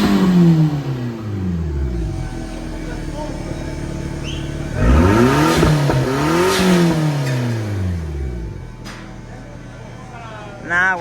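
Car engine with a custom exhaust revving hard in bursts, the harmonics climbing and falling twice near the middle, with idling before and after and people talking over it.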